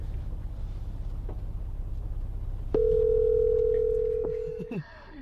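A steady phone dial tone holds for about two seconds over windy outdoor noise by a river, then cuts off.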